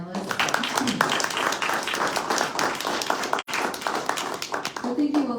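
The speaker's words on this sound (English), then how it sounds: "Can we just have a quick round of applause for our panelists?" A town hall audience gives the panelists a quick round of applause at a 2022 meeting on a utility rate hike, a dense patter of many hands clapping at a steady level with voices mixed in.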